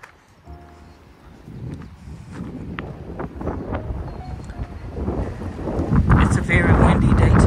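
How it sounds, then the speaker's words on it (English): Wind buffets the microphone outdoors, rumbling low and growing stronger toward the end, with faint voices and movement underneath. "It's a very windy day today."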